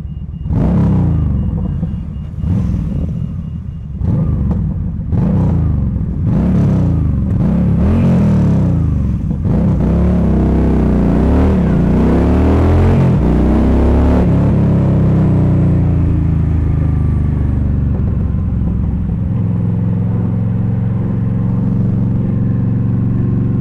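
Motorbikes on a group ride out rev hard in a series of loud, close throttle blips, then hold a sustained roaring high-rev note before dropping back to a low idling rumble.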